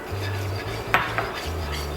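Flour stirred into heated oil for a dark roux, a utensil scraping and clinking against the pot in short, steady strokes with a couple of sharper knocks, close and moderately quiet with no talk.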